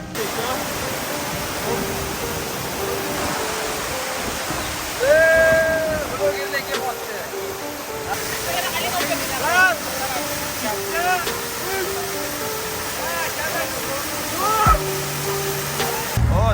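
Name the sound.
waterfall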